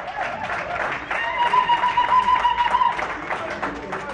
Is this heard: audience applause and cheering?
yes